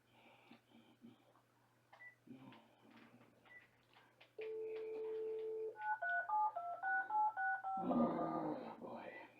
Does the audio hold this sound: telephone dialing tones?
yes